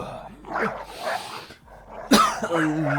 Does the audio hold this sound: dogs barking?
yes